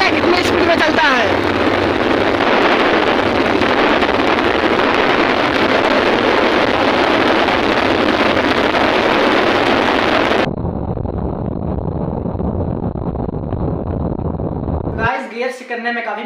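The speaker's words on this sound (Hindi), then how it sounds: "तो भाई हमारा चौथा गियर लग चुका है, आप लोग देख सकते हैं दोस्तों, देखते हैं कितनी स्पीड में चलता है।" Yamaha FZ motorcycle riding in fourth gear, a loud steady engine drone mixed with heavy wind rush that drops in level partway through, with someone talking over it.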